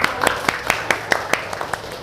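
Small classroom group clapping in a teacher-training session, about ten distinct, fairly evenly spaced claps over two seconds, close and crisp, with faint voices underneath.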